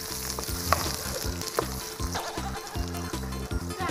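Dried chili segments and Sichuan peppercorns stir-fried in hot oil, a steady crackling sizzle with rhythmic scraping strokes of a utensil against the pan, close and continuous.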